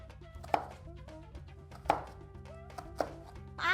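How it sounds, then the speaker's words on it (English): Knife chopping a carrot into slices on a cutting board: three sharp, well-spaced chops over a steady low background hum, with a brief rustle at the end. "So we need to cut the carrot into slices too."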